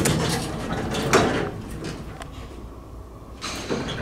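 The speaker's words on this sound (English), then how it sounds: "we got no fan so we can hear the motor" A Dover traditional hydraulic elevator at Energy Plaza in College Station, Texas, rumbles steadily under broadband mechanical noise while its doors slide with a couple of knocks, heard from inside the car.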